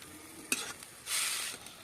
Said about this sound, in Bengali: ভালো করে মশলার সাথে সবজিগুলো আর কিছুক্ষণ কষে নেবো।